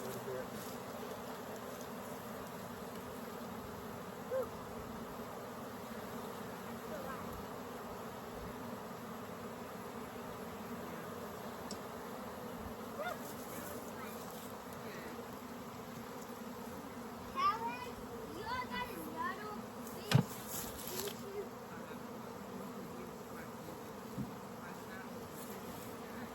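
A dense, continuous hum of a honeybee swarm buzzing nearby, with occasional faint voices and small knocks in the background.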